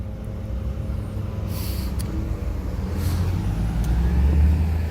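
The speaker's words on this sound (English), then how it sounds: "Those are still the cars in front of me moving." Cars move through traffic just ahead at a street crossing, with a steady low engine rumble and tire noise that swells near the end. A couple of brief hissing bursts cut through, and no one speaks.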